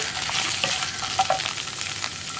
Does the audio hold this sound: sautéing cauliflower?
yes